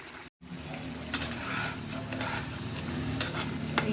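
Watermelon rind curry being stirred in a pan, giving a continuous close sizzle with scraping strokes of a spoon, after a brief silent gap at the very start.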